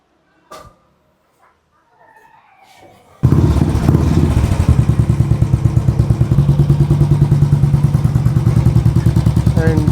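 A modified Suzuki Max 100 motorcycle engine starts after a few quiet thumps and keeps running loud and close, with a steady rapid pulsing idle for the rest of the clip.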